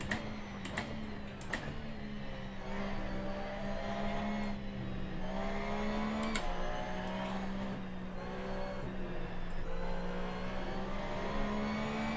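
A GT3 race car engine drones in sixth gear in the Assetto Corsa racing game, a steady mechanical hum whose pitch wavers slightly, with a few brief sharp blips early on and one near the middle.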